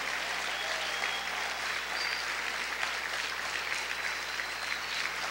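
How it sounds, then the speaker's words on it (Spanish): Church congregation applauding loudly and steadily in a worship hall, a dense continuous wash of many hands clapping for several seconds with no talking. "Aplaude, aplaude, aplaude, aplaude fuerte al Señor."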